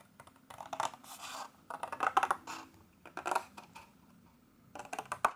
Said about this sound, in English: I'm going to cut a tab into this score line here, where it meets in the middle, and then I'm going to cut this piece off entirely.